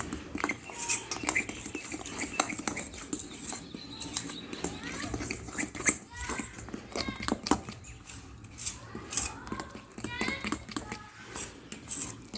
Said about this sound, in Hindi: पहले मैं ये मिक्स कर लेती हूँ अच्छे तरीके से